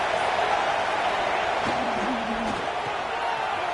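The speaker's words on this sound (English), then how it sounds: "This crowd, full throat, splitting the eardrums" A football stadium crowd roars steadily throughout a college game, a loud, constant wash of massed voices with a faint whistle-like tone briefly rising in the middle.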